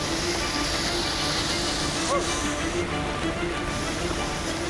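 Heavy rushing water of a waterfall torrent on a river, a dense, steady roar filling the whole stretch, close and loud with no break.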